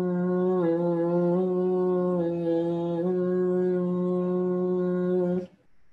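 French horn with its main tuning slide removed sustains a steady, slightly low note with rich harmonics, holding for about five seconds with small pulses before stopping abruptly, played alone.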